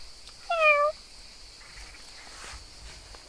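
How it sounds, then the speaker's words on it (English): A white cat lets out a single clear meow, near and fairly loud, with faint crickets and birds in a quiet rural Sicilian olive grove around it. "Ooh, it's a cat. It's a white cat."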